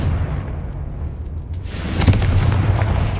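A Confringo fire spell explodes in the Hogwarts Legacy video game, a muffled booming blast with a rumbling low tail over steady game background noise.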